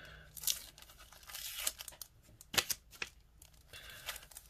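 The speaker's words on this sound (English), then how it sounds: "Yes, I'm fussing with more painter's tape." Painter's tape being torn and fussed with at close range, heard as short raspy ripping and crinkling bursts with uneven gaps, fairly quiet.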